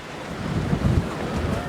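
Wind buffets the microphone at Haeundae Beach in Busan, a loud low rumble that swells and fades, with surf audible faintly behind it.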